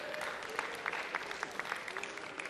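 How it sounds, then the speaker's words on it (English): A large crowd at a psychology lecture on false memory and eyewitness testimony claps in moderate, fairly quiet applause, with a few sharper individual claps standing out over the steady wash. "Give her a big round of applause"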